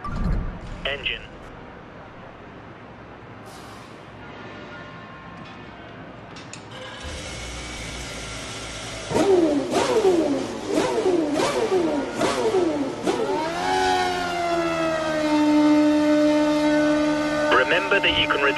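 Formula 1 car engine in F1 2012 on Xbox 360, revving up from about nine seconds with rising and falling pitch sweeps, then settling into a steady loud drone, with quieter game sounds before it.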